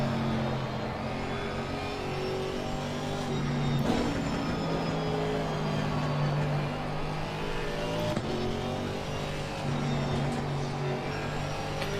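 Race car engine in Assetto Corsa Competizione during an endurance race at Suzuka, droning loudly and steadily with rising and falling revs through gear changes, with no talk over it.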